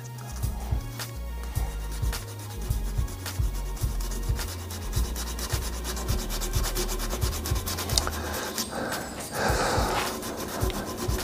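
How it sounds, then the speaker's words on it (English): Hand sanding a spinning wood burl on a woodturning lathe, a continuous close rubbing hiss over the lathe's low hum, growing rougher and louder toward the end. "I'll just give the burl a little bit of a hand sand as well"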